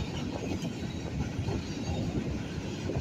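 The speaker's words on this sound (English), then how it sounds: "Train stopped on the" A Norfolk Southern or CSX train on a yard lead beside former Lackawanna Steel, a steady rumble of rolling cars with faint wheel clatter, continuous and fairly close, no voices.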